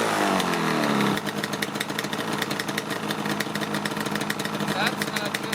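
A Yamaha RZ350 two-stroke with a charging fault cranks and catches at once, then runs at a rapid, buzzing, uneven idle close by. A person speaks over the engine.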